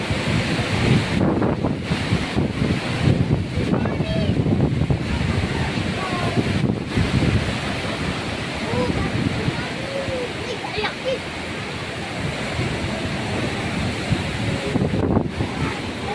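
Strong typhoon winds and surf roar continuously, with waves crashing close by and wind buffeting the microphone throughout.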